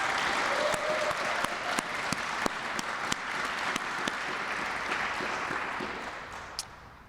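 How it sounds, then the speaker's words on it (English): Steady audience applause at a Chicago smart lighting ribbon cutting, a dense wash of clapping with a few sharper claps standing out, holding through the clip and thinning slightly at the end. "So please give them another round of applause."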